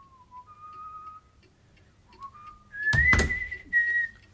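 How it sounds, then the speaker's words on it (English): A man whistles the melody of The Last Rose of Summer indoors, clear sustained notes rising and falling in phrases, with a brief loud thump or knock partway through and quiet room noise behind. "standing by the window and whistling"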